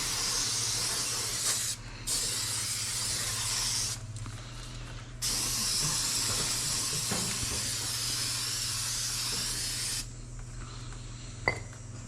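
Steady aerosol hiss of brake cleaner spraying onto an Infiniti M37X's brakes in long bursts with short pauses, close and fairly loud over a low hum.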